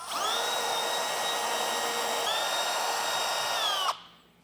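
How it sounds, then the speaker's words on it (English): A power drill bores a pilot hole through a 2019 Ford F-150 roof, a steady close high whine with a slight pitch dip midway, then stopping abruptly near the end. "move up a size and drill bit, and repeat."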